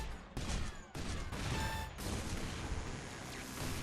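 Rocket explosions in the shooter game Loadout, a burst of sharp blasts and crackling booms in quick succession, loud and close, followed by a rumbling, noisy tail.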